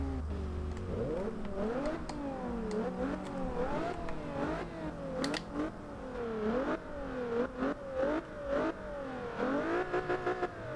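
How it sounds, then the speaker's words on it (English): A 2010 Nissan 370Z engine in Forza Horizon 2 revs repeatedly through rising gear sweeps, a synthetic game-like exhaust roar climbing and dropping in quick cycles. "let's just take a listen to the exhaust and whatnot"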